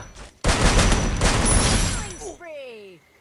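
Gunfire in the mobile shooter Free Fire, one loud burst of rapid shots lasting about two seconds, followed by a voice.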